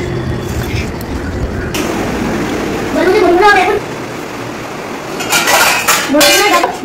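Plates are washed at a basin under running water, with occasional clinks of metal dishes; a voice talks over much of it.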